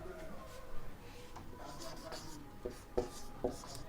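Marker or chalk writing on a classroom board during a Hindi physics lesson on electrical resistance, heard as faint scratchy strokes with a few sharper taps near the end, under quiet room noise.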